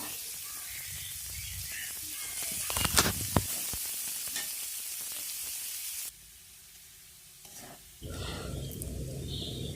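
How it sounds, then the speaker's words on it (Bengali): Cabbage being stir-fried in a pan for chow mein gives a faint, steady sizzle with a few sharp scraping stirs. The sound drops out for a moment before the frying hiss returns. "বাঁধাকপিটা দিয়ে এটাকে আমি 2-3 মিনিটের মতো একটু নাড়াচাড়া করব"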